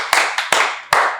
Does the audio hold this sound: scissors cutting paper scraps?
no